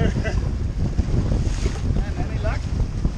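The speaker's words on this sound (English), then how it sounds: "Water taxi there." Out on the water off Fanning Island, a water taxi boat passes amid heavy wind buffeting and sea noise, its motor a steady low rumble largely masked by the gusts.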